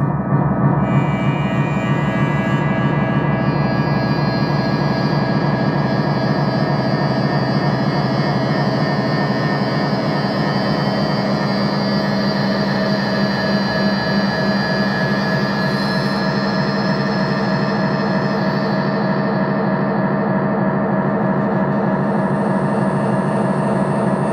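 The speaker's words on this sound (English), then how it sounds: "So if I turn this on, you hear the feedback is coming." A dense, sustained wash of repeating echoes from a delay pedal builds into a continuous droning feedback loop, loud and layered with a high ringing tone above.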